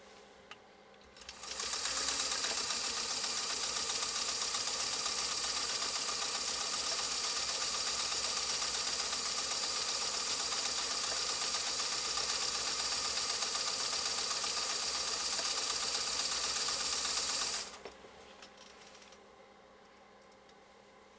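A Pfaff 360 sewing machine runs a steady, continuous stitching test for about sixteen seconds, its fast mechanical whir starting and stopping abruptly, loud and close with no talking.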